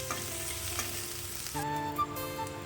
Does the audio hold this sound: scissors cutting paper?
no